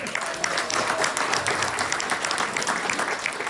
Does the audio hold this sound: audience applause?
yes